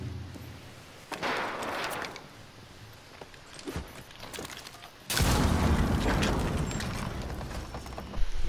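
A hatch blown open by an explosion in a first-person shooter video game, a sudden loud blast midway giving way to a sustained roaring rumble, preceded by scattered thumps and softer rushing noise.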